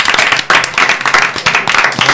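A small audience at a Halloween quiz night claps loudly and close in uneven bursts of hand claps, without talk.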